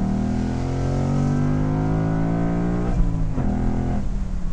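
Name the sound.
2018 Ford Mustang GT Convertible engine revving high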